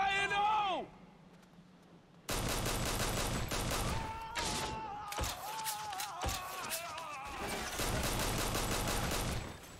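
Rapid bursts of gunfire from a 50 Cent: Blood on the Sand shootout, loud clustered shots and impacts after a short quiet stretch, with voices shouting amid the battle.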